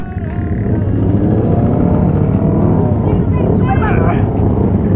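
Kawasaki Ninja H2 motorcycle at a wedding gathering, its engine rumbling loud and close in a steady, sustained roar, with people talking over it.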